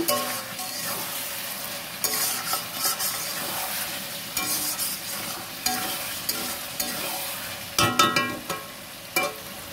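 Food is stir-fried in a pan at home, with a steady sizzle under repeated scraping and clanking strokes of a spatula against the pan, loud and close.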